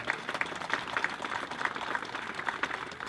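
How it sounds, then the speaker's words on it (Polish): A crowd at a museum exhibition opening in Czeladź, Poland applauds steadily, many hands clapping in a dense, even patter that holds throughout at moderate volume. "Wielkie brawa."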